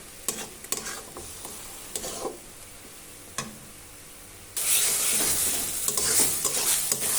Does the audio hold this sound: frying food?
yes